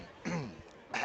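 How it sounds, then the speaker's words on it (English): A person clears their throat twice, a raspy rumbling rasp followed by a shorter, sharper one, close and alone. "Let me clear my throat."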